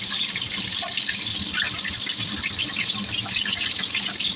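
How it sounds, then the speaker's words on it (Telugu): Mustard seeds, cumin and finely chopped green chilli sizzle in hot oil for street-style veg fried rice, producing a loud, continuous crackle dotted with quick spluttering pops, close up and without speech. "ఒక టేబుల్ స్పూన్ ఆవాలు వేసుకున్నా, ఇందులో జీలకర్ర వేస్తున్నాను. అలాగే సన్నగా కట్ చేసుకున్న గ్రీన్ చిల్లీ కూడా వేస్తున్నాను."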